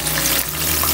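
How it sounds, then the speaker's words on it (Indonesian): Tempeh frying in hot oil, a dense continuous hiss and crackle of sizzling close by, steady and fairly loud with no talk. "Dan si tempenya saya goreng ya teman-teman"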